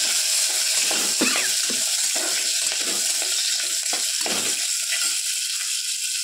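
Green chilli pieces fry in a pan with a constant loud sizzle, while a spoon scrapes and stirs through them in uneven strokes up close.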